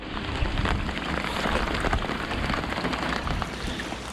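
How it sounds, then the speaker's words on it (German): Steady rain falls during a thunderstorm on a lake in Norway in summer, a dense even hiss of drops close by with no talking. "der Regen ist nicht schlimm, der ist angenehm, aber der Gewitter auf dem See ist nicht so geil"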